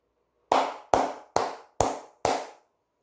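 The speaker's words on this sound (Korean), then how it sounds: "한 분도 빠짐없이 크게 박수를 쳐주시기 바랍니다" Five sharp, evenly spaced hand claps ring out one at a time, each with a short echoing decay, clear and alone with no talk.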